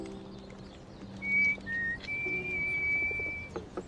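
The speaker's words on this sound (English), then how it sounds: "There's the Corbett whistle." A person whistles a signal: a thin, sustained tone that rises and holds for a couple of seconds, moderately loud over faint outdoor background noise.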